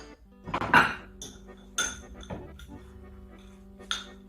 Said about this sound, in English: Now to this, I'm going to add the chopped cashew nuts.